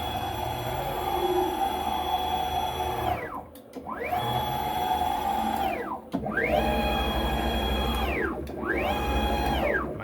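Stepper motors on an Avid Benchtop Pro CNC router drive the gantry quickly, a loud whining hum that sweeps down and back up in repeated rapid moves, with brief pauses between traverses.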